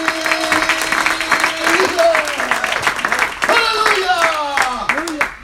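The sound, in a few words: congregation applause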